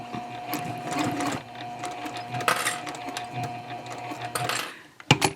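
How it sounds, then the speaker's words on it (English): A sewing machine stitches a fabric tote bag with a busy, steady mechanical whir and clatter, close and continuous, with a few sharper clicks near the end. "And then I'm going to pivot and stitch diagonally across the box."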